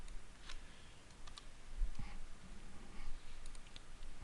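Sparse computer mouse clicks and light keyboard taps sound as a box is clicked and a value typed in, short crisp ticks scattered over a low hum.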